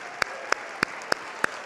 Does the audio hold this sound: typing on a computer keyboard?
no